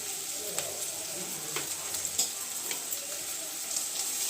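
Onions frying in a pan with coriander powder, turmeric and chilli powder while being stirred, a soft, steady sizzle broken by a few light spatula scrapes and taps.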